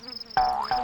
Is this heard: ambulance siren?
no